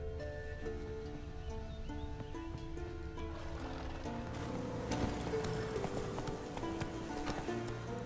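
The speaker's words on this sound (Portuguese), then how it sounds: "Esse é o cavalo dele." Horse hooves clip-clop at a steady walking pace in The Witcher 3, fairly quiet beneath layered orchestral game music with sustained notes.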